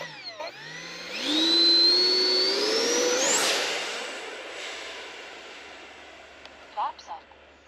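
FMS Futura 64mm electric ducted fan jet model spooling up to a loud, rising whine at hand launch, then flying away as the high-pitched whoosh gradually fades, with brief voices near the end.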